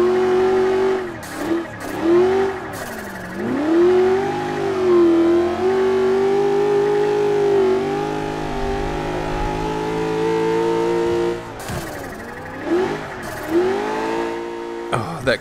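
A 1995 Mustang SVT Cobra R engine in Forza Motorsport 5 drones under a drift build, its pitch rising and falling steadily through long revs and shifts, with brief bursts of tire noise near the start and end.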